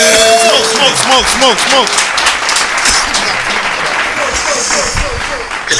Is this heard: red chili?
no